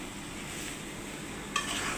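Beef tripe being stirred in a hot pan with salt and spices, a soft scraping swirl over a quiet steady sizzle, with a sharper clink of the spoon near the end.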